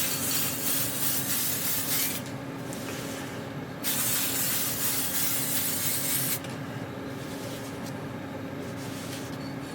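Spray paint can applying light coats on a steampunk gauge kit, two long hissing bursts separated by quieter pauses, close and fairly faint; no talking.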